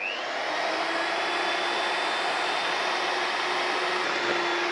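A hand mixer beats ground butter and sugar into a soft cake mixture, a steady loud electric whine running the whole time without pause or talk.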